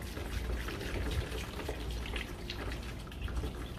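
Factory Honda engine coolant pours in a steady, gurgling liquid stream, close and fairly quiet, with no talking.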